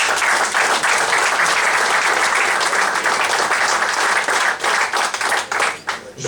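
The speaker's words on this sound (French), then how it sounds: "Donc je voudrais qu'on les applaudisse pour leur travail" Sustained applause from an audience at an evening presentation of a futsal team, dense steady clapping filling the room for several seconds before thinning out near the end.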